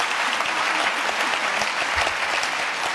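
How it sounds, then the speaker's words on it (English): An audience applauds warmly at an event at the 92nd Street Y with Nancy Pelosi, a dense, steady wash of many hands clapping for a few seconds with no talk. "I think they deserve a round of applause."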